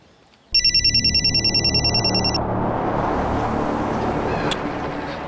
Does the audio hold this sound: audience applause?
no